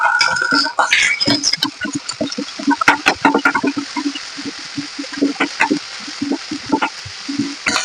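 Ginger and shallot paste frying in oil with sliced onions and slit green chillies, a steady close sizzle with scattered pops and clatters of stirring throughout.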